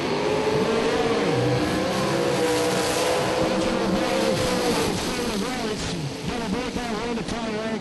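A pair of drag racing dragsters launch and roar down the strip, a loud sustained engine howl with pitch sweeps that fades slightly toward the end, while an announcer talks over it.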